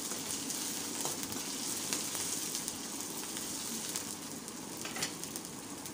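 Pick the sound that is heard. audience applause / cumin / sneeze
cumin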